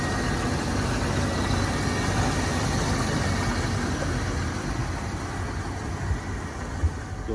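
A 1989 Ford F-250 XLT Lariat's 7.5-liter 460 V8 idling, a steady, even low rumble with broad noise, close and continuous throughout.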